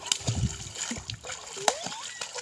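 A child with a swim tube splashing in village water during swimming practice, with irregular close splashes and sloshing under voices talking.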